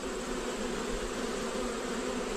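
Honeybees buzzing and fanning at a hive entrance, a dense, steady insect drone close to the microphone with no voices.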